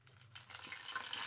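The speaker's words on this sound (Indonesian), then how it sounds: "sekarang kita goreng" Food hits a hot, full wok outdoors in a forest and a soft, hissing sizzle builds steadily, faint and close, with no voices.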